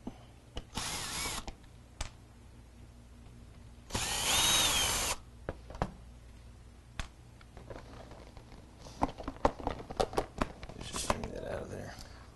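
A power driver spins out Phillips head screws from a seat trim panel on a 2000–2002 Chevy, GMC or Cadillac, in two loud close whirring bursts separated by quieter clicks and handling sounds.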